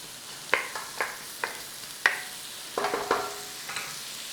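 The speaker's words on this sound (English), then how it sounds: "All we're doing is cooking the rawness out of the onions." Onions cooking in a pan with salt, heard as a quiet series of separate scrapes and taps from stirring, spaced about half a second apart over a soft, low sizzle, with no voices.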